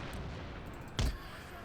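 Cannon artillery in an Empire Total War battle at Tbilisi gives a single short, thudding boom partway through, rising out of a constant low battlefield din.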